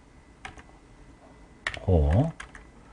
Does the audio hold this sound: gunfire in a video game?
no